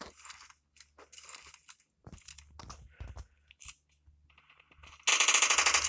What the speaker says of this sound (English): I didn't mean to shoot right there.